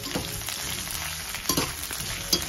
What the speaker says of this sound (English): Fry the onions as well until it is slightly golden in color.